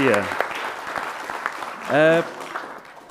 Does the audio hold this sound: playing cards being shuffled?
no